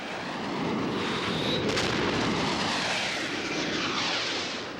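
Military fighter jets attack in wartime, a continuous loud roar of aircraft engines filling the clip, with a brief sharp burst near the middle and no talk.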